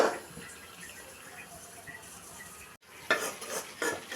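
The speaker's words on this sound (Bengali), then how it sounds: "মশলার মধ্যে কপিগুলো আবারও ভালোভাবে কষিয়ে নিচ্ছি।" Fried cauliflower being stirred into spiced masala in a pan, with a steady low sizzle and scraping spoon strokes against the metal, a brief pause, then louder stirring bursts near the end.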